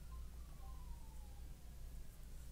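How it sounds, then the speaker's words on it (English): A faint siren wails outside in the distance, its tone sliding downward over a low rumble of background noise, with no talking. "There's sirens outside."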